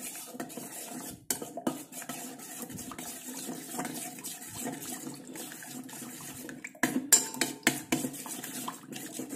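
Black cumin that has been roasted and ground is stirred into water in a vessel, giving steady close scraping and clinking of a spoon with brief pauses and a louder flurry near the end.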